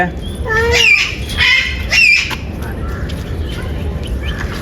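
Several loud, harsh parrot squawks in quick succession, close by, over a noisy background at Sarthana Nature Park in Surat, followed by fainter chatter.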